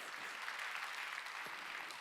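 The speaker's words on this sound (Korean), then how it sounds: "박수" A church congregation at a Wednesday worship service claps briefly, a soft, diffuse patter of many hands at low level, ending with a sharp loud bump.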